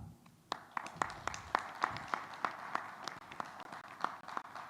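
An audience applauds at a crafts awards ceremony after a cash prize is announced, giving a sparse, moderate patter of individual claps that stays fairly thin and steady throughout.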